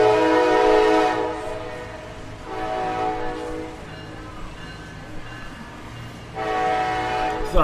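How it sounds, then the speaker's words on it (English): A passing train sounds its horn in loud, sustained blasts with a gap between them, while the rumble and clatter of the railcars carries on underneath. "yes, you hear a train going by"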